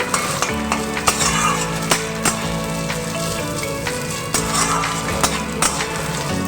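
Cauliflower florets fry in hot oil, giving a loud, dense, continuous sizzle up close, punctuated by periodic sharp stirring scrapes and clinks of a utensil against the pan, with no talking.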